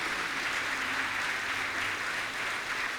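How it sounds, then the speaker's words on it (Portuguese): A church congregation at a communion service claps together for Jesus in a thick, continuous round of applause that stays even and full throughout. "Irmãos, as palmas para Jesus"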